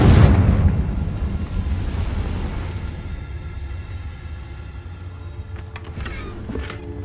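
Confringo fire spell blast in Hogwarts Legacy: a loud, rumbling explosion at the start that fades into a low lingering roar, with a few faint higher clinks near the end.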